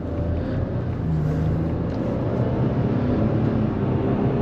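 2023 Ford F-150 XL pickup with a 2.7L twin-turbo V6 accelerating from inside the cab, a steady low engine drone and road rumble that holds constant and close without any talk.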